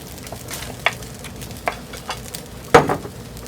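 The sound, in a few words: mutton meat added to a sizzling pan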